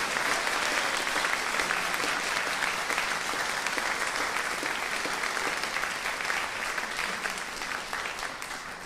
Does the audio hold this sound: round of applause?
yes